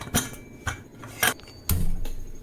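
Several distinct metallic clanks and knocks of a lidded pressure cooker of mutton being handled and set down on a stove, spaced irregularly, with a short scraping rattle at the end.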